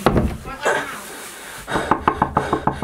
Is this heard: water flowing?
no